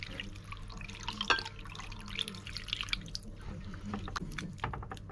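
Half a litre of water is poured onto hand-mashed potatoes in a pot for dal, giving close splashing and dripping with small wet squelches throughout.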